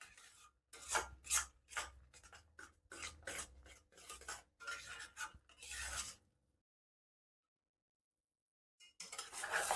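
Masala stirred and fried in a pan, a series of close rhythmic scraping rasps from a spatula against the pan for about six seconds, then a long silence before the scraping resumes.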